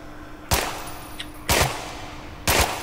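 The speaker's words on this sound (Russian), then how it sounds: "Да не стреляйте издалека" Submachine gun fire in the video game Contagion: three sharp, loud shots spaced about a second apart, each a hard crack that decays quickly, with a quiet background between them.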